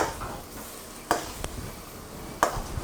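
Chili chicken being stir-fried in a wok, with a steady sizzle under the scrape and clank of a spatula pushing the food across the pan, two sharp knocks standing out.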